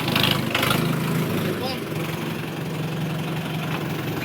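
A tractor engine idles steadily nearby after a wash, a low continuous rumble with a brief louder burst of noise at the start and faint voices in the background.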